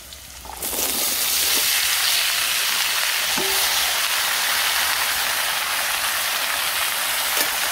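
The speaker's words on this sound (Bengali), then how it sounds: "আর এখন সবজিগুলা ঢেলে দিই" Vegetables tipped into a hot pot with oil and lentils in a village kitchen, bursting into a loud, steady hiss of sizzling that starts abruptly and carries on evenly, with no talking.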